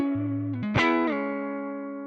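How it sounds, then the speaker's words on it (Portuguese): Electric guitar played through the spring reverb of a Valeton GP-5 multi-effects unit: a few picked notes sliding into a ringing chord that blooms with a splashy, lingering spring tail and slowly decays. "vamos vir aqui e escolher o reverb de mola"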